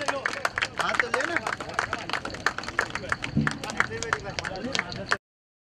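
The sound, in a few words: loud applause for a cricket batsman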